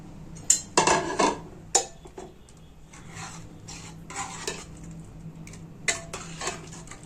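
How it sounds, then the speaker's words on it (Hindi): Metal utensil scraping and clinking against a pot as coriander is stirred into white rajma bean dal, with a few sharp taps early on and softer rubbing strokes after. "और धनिए को भी इसके साथ में मिक्स कर लेती हूँ।"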